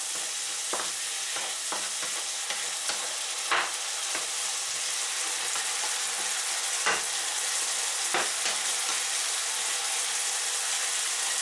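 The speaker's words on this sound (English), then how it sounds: "And then we let this soy sauce and vinegar reduce itself a little." Soy sauce and vinegar reducing in a stir-fry pan with boiled eggs, a steady close hiss of sizzling throughout, punctuated by a few sharp scraping clicks from a utensil.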